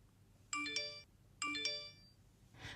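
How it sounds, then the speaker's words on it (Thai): A mobile phone ringtone plays two repeated melodic phrases of bright electronic tones, moderately loud over a low background hum, with a short rustle at the end. "เมื่อเสียงโทรศัพท์มือถือดังขึ้น"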